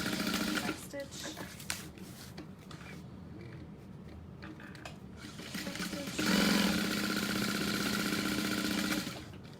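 A sewing machine back stitches on a tote bag, its motor buzzing in short bursts, then a steady loud run of stitching near the end.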